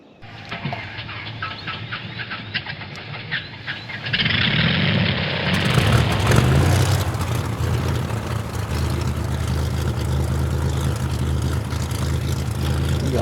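A small motor on a motorized trike cranks and catches, settling into a continuous buzzing run that grows louder and rougher, then holds a steady drone close by.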